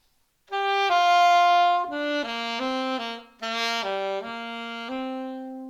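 A solo alto saxophone plays the opening phrase of a tune, a short legato line of sustained, clear notes with a few articulated changes, close and fairly loud with no voices.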